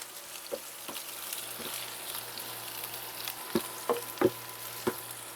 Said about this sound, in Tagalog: gigisahin lang din natin hanggang maluto ang sibuyas